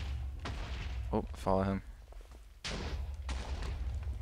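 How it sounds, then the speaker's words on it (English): Explosions in the video game BATS, booming bursts and rumbling blasts throughout, mixed with other game noise while a person talks over them. "It's probably the explosions."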